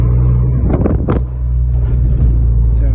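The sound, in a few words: Volkswagen Jetta wagon engine with new exhaust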